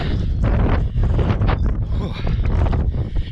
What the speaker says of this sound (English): if you can hear me because of the wind